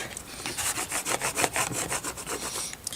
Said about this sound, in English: put it here, and burnish it down well